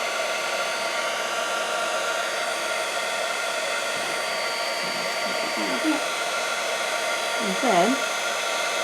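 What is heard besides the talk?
heat tool blowing on shrink film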